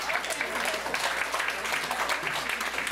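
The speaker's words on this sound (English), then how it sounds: "Big round of applause." Audience applause for a comedian at a restaurant comedy night, steady dense clapping throughout with crowd noise, close and loud.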